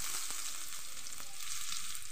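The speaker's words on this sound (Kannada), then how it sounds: "ಇದು ಒಂದು ಹೊಂಬಣ್ಣ ಬರುವವರೆಗೆ ಹುರಿಯುವ." Chopped onion frying in coconut oil with spluttered mustard seeds, a steady close sizzle with a few soft stirring scrapes, no voices.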